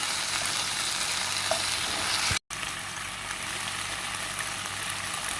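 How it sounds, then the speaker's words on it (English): Spinach cooking down with onion and garlic in a pan, a continuous even sizzle and crackle, moderately quiet and steady, broken by one very short gap, with no voices. "Still allowing this spinach to cook down."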